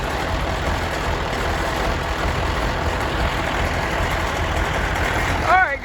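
A junkyard Massey Ferguson 1150 tractor diesel running after firing up, a loud, steady, close engine roar that holds throughout, with a brief rise at the end.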